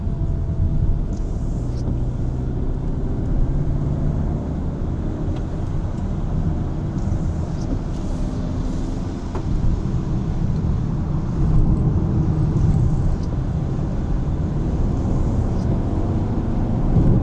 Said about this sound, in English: this 220 PS engine here, no doubts, it is also a lot more responsive